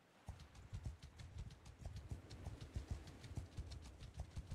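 Horse hooves clip-clopping steadily in Mount & Blade II: Bannerlord, a fast continuous gallop of dull thuds, moderately close and alone with no talk.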